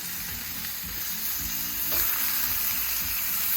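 Steak and bacon fry on a hot skillet with a steady, dense sizzle and faint spattering, close and continuous throughout without speech.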